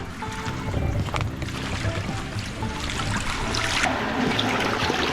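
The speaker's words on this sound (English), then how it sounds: "that is water that's coming from over there, from all the rice fields that are on my left." Water flowing down from rice fields in Japan runs steadily with a continuous trickling, gurgling rush, fairly close and unbroken throughout.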